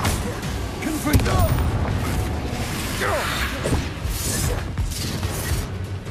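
A Confringo fire-spell explosion in Hogwarts Legacy on PS5 booms out amid a dense run of spell blasts, whooshes and thuds, the impacts layered under a speaking voice.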